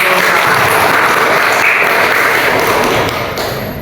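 A room full of people claps loudly and continuously for a few seconds, the applause thinning slightly toward the end.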